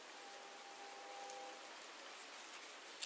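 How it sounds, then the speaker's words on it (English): Heavy rain falling outdoors on a day when a car sits outside, a steady dense hiss of drops that stays even throughout with no voices, recorded at a moderate distance. "it's raining pretty bad right now"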